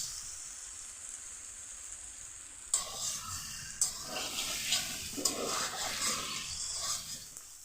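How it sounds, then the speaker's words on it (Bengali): Water poured into a hot pan of sizzling fish roe curry with potato and eggplant: a steady hiss jumps into a loud, bubbling sizzle with sharp spikes, sputtering on close by. "এখন জল দিয়ে দিচ্ছি, খুব একটা কিন্তু ঝোল হবে না"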